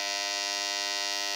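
Electric hair clippers buzz steadily and loudly while cutting a boy's hair, a constant high-pitched electric hum that holds unchanged throughout with no talking.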